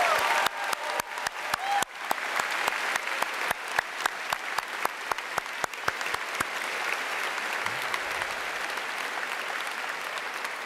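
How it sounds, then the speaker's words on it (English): Graduation ceremony audience applauding students, a crowd clapping steadily for about six seconds with a few sharp claps standing out, then fading away. "Please stand and a round of applause for these fine students."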